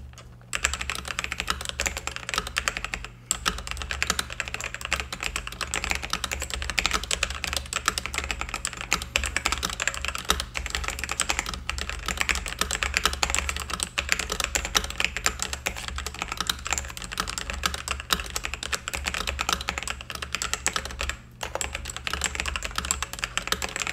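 Steady, continuous typing on a computer keyboard fitted with Nimbleback Kilmat silencing material, giving dense, muffled, deeper key clatter with no voices.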